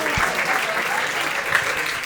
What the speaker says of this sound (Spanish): Un aplauso para Pedro Porro, por favor.